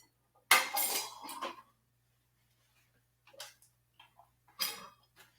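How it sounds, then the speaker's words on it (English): A spoon stirs jerk seasoning and coconut sugar together in a bowl, giving a few separate scraping, clinking strokes against the dish with quiet gaps between them, close up, with no talking. "So we'll stir it together."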